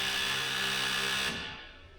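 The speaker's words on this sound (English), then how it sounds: "This air buzzer is entirely too loud." A loud, steady electrical buzz from the low air pressure warning buzzer in a Mack A40 truck, holding constant for over a second before cutting out and fading away.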